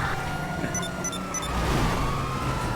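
A police car siren wails in the GTA video game over a loud engine and road rumble. A short electronic chirping pattern sits above the siren near the start.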